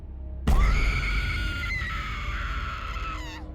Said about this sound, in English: Just then, I heard a loud shriek coming from the base of the tower.